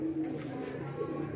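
Kasuri racing pigeons at a Sargodha pigeon race cooing softly in a brief, continuous low burble, with faint background noise.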